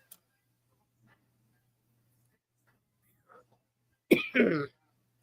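After near silence and a few faint ticks, one close, sharp cough breaks out, a quick double burst near the end.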